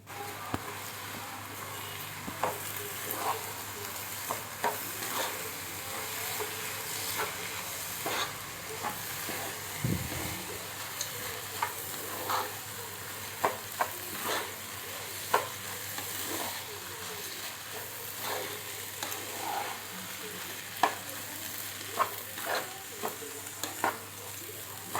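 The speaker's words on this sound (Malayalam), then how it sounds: "അരിയിലുള്ള വെള്ളമെല്ലാം ഇതാവുന്ന വരെ നമുക്കൊന്ന് ഫ്രൈ ചെയ്തെടുക്കാം" Washed rice fries and is stirred in a pot for Thalassery dum biryani, a quiet continuous sizzle broken by frequent scraping spoon strokes and light clinks, steady throughout with no talking.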